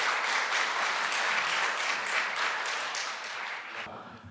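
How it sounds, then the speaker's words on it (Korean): Seminar audience applauding to welcome a speaker at a corporate governance seminar in a hall, sustained even clapping for about four seconds that thins and stops abruptly near the end. "저희 박수로 맞아주시면 감사하겠습니다."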